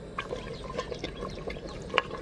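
A glass of water is poured into a cooking pot of chicken pulav, a brief close burst of splashing and bubbling liquid with a few small drips, no talk.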